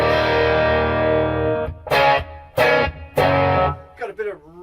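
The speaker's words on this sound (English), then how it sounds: "Got a bit of reverb on there." Electric guitar through a virtual Fullerton 57 single-input Class A amp with reverb: a sustained chord rings out and decays, followed by three loud strummed stabs and a few quieter picked notes, each trailing a short reverberant tail.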